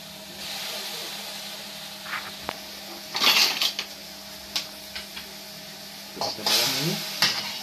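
Onions fry in a little sardine oil in a pan, a steady sizzle with bursts of louder crackling and spatter as they are stirred, plus a few clicks of the utensil against the pan.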